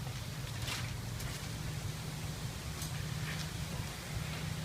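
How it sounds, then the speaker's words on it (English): Brake cleaner sprays onto car brake parts during a Kia Soul brake job in a steady, loud, continuous hiss that holds without a break. "This is what the brake cleaner is for."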